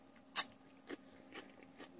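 Celery stalks being bitten and chewed close up: one sharp crisp crunch, then several softer crunching chews in an otherwise quiet room.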